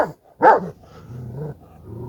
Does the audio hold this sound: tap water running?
no